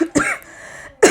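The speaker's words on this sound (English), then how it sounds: "I apologize for coughing in you guys' ear." A sick woman coughs several times in quick succession, close and loud, with harsh broadband bursts, a rough throaty tail between them, and a final strong cough at the end.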